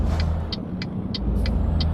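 A truck's engine idles with a low, steady rumble in the Euro Truck Simulator 2 driving game as it waits to pull out at a junction, while a crisp indicator ticks at an even rhythm about three times per second.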